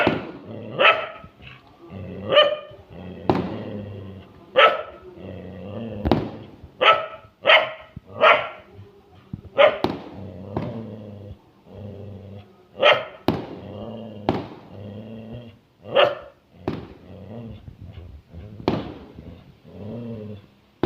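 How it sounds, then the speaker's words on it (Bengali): A frightened dog named Max barks repeatedly during Holi while firecrackers go off outside. The barks come in loud, close bursts throughout, with a few whimpering or growling tones between them. "এদিকে দেখো ম্যাক্স ভীষণ ভয় পেয়ে ডাকছে, কারণ বাইরে প্রচণ্ড বাজি ফাটছে"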